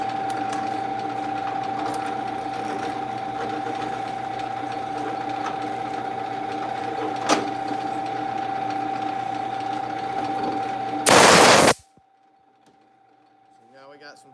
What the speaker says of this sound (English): All we're trying to do now is drill our screw holes.